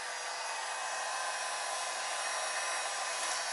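A heat gun blows hot air onto a Volkswagen MK4 Jetta/Golf/GTI fender being rolled. It makes a loud, continuous hiss and whir, steady and close throughout with no speech.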